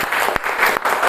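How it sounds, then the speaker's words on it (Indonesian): A class bursts into brief, loud applause for everyone after their group discussion, a dense, close patter of hands with a couple of sharper claps standing out. "tepuk tangan untuk semuanya"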